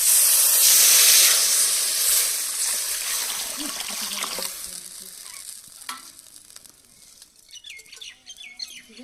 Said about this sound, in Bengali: তেঁতুল পাতার টক রান্নার জন্য পাতাগুলো সিদ্ধ বসিয়ে দেব